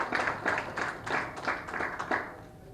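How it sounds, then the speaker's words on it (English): A modest audience at a National Press Day award ceremony claps for the winners, a short burst of scattered, rhythmic hand claps that thins out and fades within three seconds. "I would request you all to give a big round of applause to the award winners."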